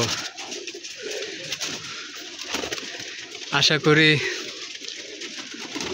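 Pigeons coo and flutter near a rooftop loft where young birds are landing, soft calls and wingbeats under someone speaking Bengali, with a louder burst of flapping and cooing midway.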